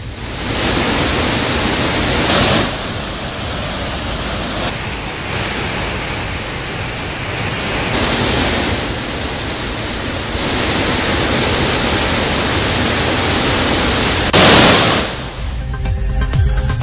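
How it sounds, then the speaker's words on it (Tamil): Floodwater roaring over the main falls and the five-branched falls at Hogenakkal, a loud, unbroken rushing torrent that swells and dips slightly across the stretch, with no voices. "ஒகேனக்கலில் உள்ள பிரதான அருவி, ஐந்தருவி, மெயின் அருவி உள்ளிட்ட அருவிகளில் தண்ணீர் ஆர்ப்பரித்துக் கொட்டுகிறது"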